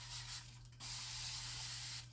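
Aerosol spray hissing onto a silicone resin-crafting cup to clean it, a steady close-up hiss lasting over a second after a short earlier burst, over a constant low electrical hum.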